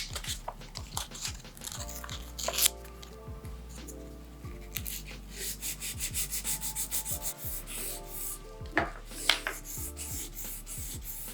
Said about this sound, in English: I have some 600 grit sandpaper that I'm going to use